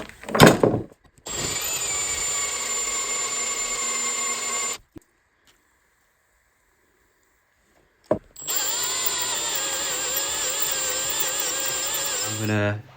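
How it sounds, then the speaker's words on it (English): Power drill boring a hole in the metal deck of a Hayter Harrier 41 lawnmower, two long steady whines of the motor separated by a silent pause, close and loud with no talk. "I'm going to drill this out a little bit bigger and then tap it to take an M8 bolt"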